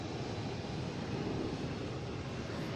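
Steady broadband roar of an American Airlines jet at Boston Logan International Airport, constant and moderately distant with no distinct events, wind-like and unbroken throughout.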